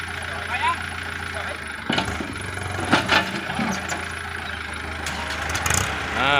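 Kubota L5018 tractor diesel engine idling in neutral, a steady low rumble throughout with a few clanks and knocks, while someone talks over it.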